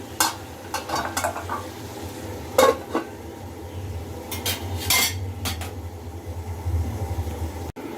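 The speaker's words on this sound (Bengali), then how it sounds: "এখন এটা ভালো করে আর একটু ভাজা ভাজা হয়ে সিদ্ধ হোক, ততক্ষণ আমি এটাকে ঢেকে দিচ্ছি।" Dried lotte fish and potatoes sizzle softly in a covered pan, with a steady low frying hiss broken by several sharp clinks of a metal lid and utensils against the pan.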